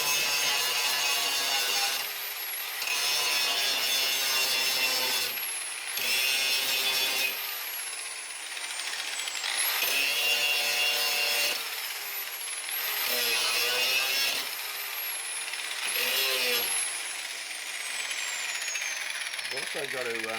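Power tool cutting out a rusty plenum chamber panel on a ZK Ford Fairlane, repeated loud whining bursts of several seconds each, broken by short pauses.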